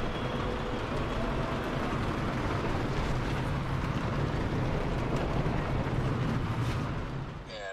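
Steady, dense rain drums on the roof of a van, a constant broadband hiss holding even for the whole stretch with no voices.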